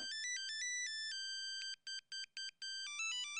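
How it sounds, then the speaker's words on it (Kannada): A mobile phone ringtone playing a bright electronic melody of rapid repeating beeps and tones, clear and close with brief gaps between phrases and nothing else heard. "ಓ, ಇದು ಮೊಬೈಲ್ ರಿಂಗ್ ಟೋನಾ?"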